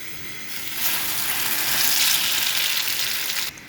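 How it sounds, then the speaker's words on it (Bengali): Egg-dipped snack made from egg and flour frying in a pan, a steady close sizzle that swells after the piece is laid in and holds loud and even to the end, with no talk. "ডিমের উপর চুবন দিয়ে এপাশ ওপাশ করে ভাজা হবে"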